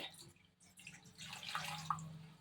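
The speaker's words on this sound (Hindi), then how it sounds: "उसमें पानी डाल के" Water poured into a cooking pot on a gas stove while making capsicum halwa, a soft splashing and trickling stream with a couple of bright drip accents, fairly quiet and close.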